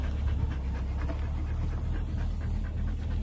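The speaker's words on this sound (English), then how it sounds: "look at this dog." A dog named Gustafer pants steadily and close by through a continuous low background rumble, with no talk over it.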